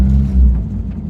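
Interior engine rumble from a rattly old Maestro van with a swapped-in 2-litre turbo engine, pulling away with a steady low drone and slight rise in revs, close and fairly loud with no talk.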